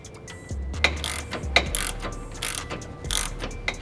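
Ratcheting wrench works a suspension nut on a GR86/BRZ/FRS/GT86 front lower control arm, giving close bursts of rapid metallic clicking separated by short pauses between strokes.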